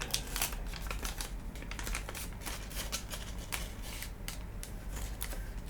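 Paper being folded and creased for an origami elephant, producing steady close crinkling and sharp creasing rustles throughout, with no talking.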